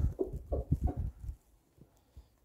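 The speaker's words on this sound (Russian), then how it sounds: "Странные куры эти." Several hens cluck in a quick irregular run close by in a village yard, then fall to a few faint scattered clucks.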